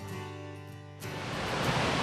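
Matterhorn Creek rushes along a mountain trail in a steady broadband roar that swells louder partway through and then holds close and constant, with no voices.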